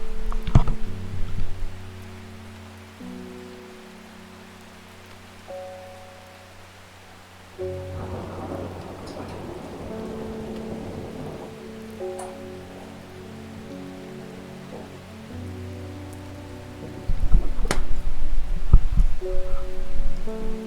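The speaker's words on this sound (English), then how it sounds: "nature filled in the gap there with a huge peal of thunder" Rain falling steadily with a deep rolling peal of thunder, the rumble swelling midway and again near the end beneath sustained tonal game music from Strange Horticulture.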